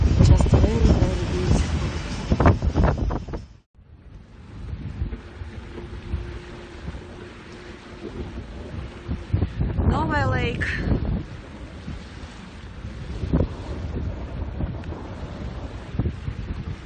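Strong gusts of wind buffet the microphone beside a river and forest in Siberia, a loud, rough, continuous rumble that briefly cuts out, then returns unevenly.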